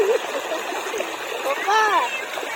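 Floodwater rushes and splashes steadily through a farm field throughout, a broad continuous wash, with a person's voice rising over it partway through.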